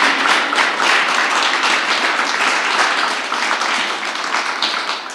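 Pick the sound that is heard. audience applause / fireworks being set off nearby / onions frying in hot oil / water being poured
audience applause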